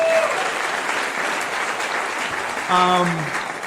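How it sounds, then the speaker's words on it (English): A crowd at a food policy celebration claps for children on stage, a sustained round of applause with a voice speaking over it and a brief tonal sound near the end. "the kids on the stage who are behaving very well deserve an amazing round of applause"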